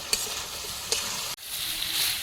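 Ground ginger fries with mixed vegetables for shukto, a steady close sizzle with a few light scrapes of a spatula and a brief break partway through.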